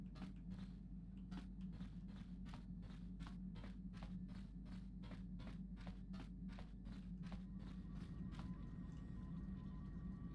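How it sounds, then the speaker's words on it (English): Footsteps in Knights of the Old Republic, a steady run of evenly spaced steps over a low droning ambient hum, fairly quiet with no talk. "More footsteps behind me."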